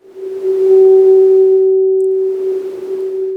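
A synthesized body rings at its natural mode, a pure steady tone swelling up with a soft noisy wash that fades and returns, alone and loud.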